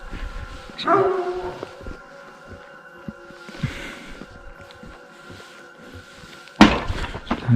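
A few dogs bark in sporadic bursts around an abandoned village, with a couple of louder barks near the start and end against a humming background.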